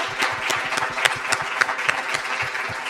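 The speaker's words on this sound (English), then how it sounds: "And a big applause for this beautiful panel." A crowd applauds, dense overlapping claps forming a steady, moderately loud patter throughout.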